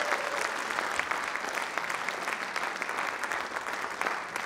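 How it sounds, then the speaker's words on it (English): Applause from an audience at a high school spring choral concert, continuous dense clapping at an even level across the whole stretch, with no talking. "I think she deserves a round of applause for all her music."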